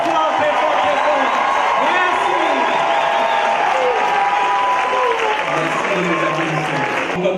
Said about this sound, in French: Est-ce que vous pouvez applaudir Monsieur le maire très fort, très fort, très fort.